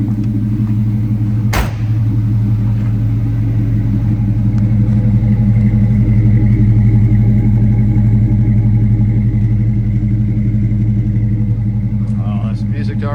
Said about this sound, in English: Let's go give a listen to those tailpipes.